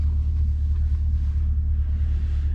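Deep, steady engine rumble from a C8 Corvette Z51 with its V8, heard from inside the cabin while driving, a loud continuous low drone with no talking.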